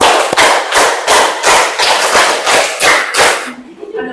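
A classroom group claps in unison through two rounds of five claps, ten sharp, evenly paced bursts at close range that end in near quiet.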